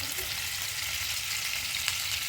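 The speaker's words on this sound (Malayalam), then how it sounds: "ഇനി അതിനെ ഒന്ന് പാനിൽ ഫ്രൈ ചെയ്തെടുക്കാം" Paneer pieces fry in a pan with a little oil, giving a steady, close sizzle and crackle that holds evenly without pause and with no voices.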